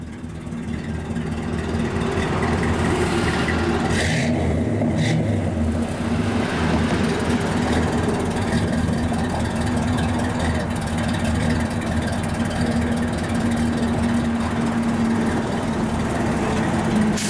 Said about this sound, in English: Got a nice dual exhaust, but just nice, quiet. They're set of Flowmasters, but just good sounding car going down the road.